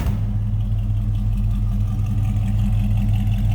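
A 1980 Chevrolet Camaro Z28 idles while warming up, its engine giving a steady, deep, rumbling burble up close with an even pulsing rhythm and no other sounds.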